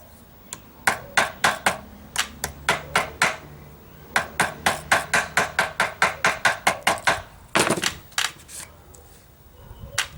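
Sharp taps from a wooden fret hammer made of reclaimed timber strike metal guitar frets in quick regular runs, close and crisp, pausing briefly before another rapid series and a short flurry of blows.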